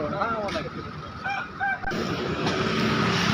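Chickens cluck and squawk close by amid a busy, noisy chicken market, with a few short calls standing out.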